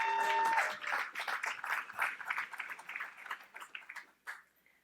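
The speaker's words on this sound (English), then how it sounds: "Please join me in a round of applause to thank these sponsors for their support" Audience at an AOBIO biotech award event applauding to thank sponsors, a burst of many hands clapping at moderate distance that thins out and fades away over a few seconds.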